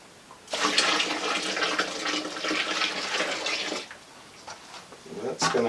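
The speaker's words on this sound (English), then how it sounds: "So initially we're going to add another bit of water." Hot water gushing into an all-grain mash during a chocolate cream beer brew day, a loud rushing pour lasting about three seconds, then a quieter trickle and a brief second splash.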